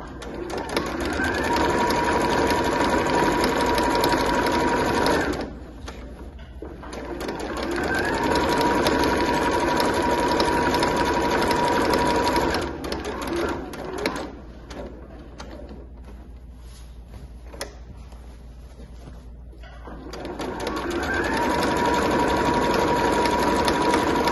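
Electric sewing machine stitching a seam on a fabric multipurpose drawstring bag, a steady close whirring run that pauses briefly for several seconds before resuming, with no talking.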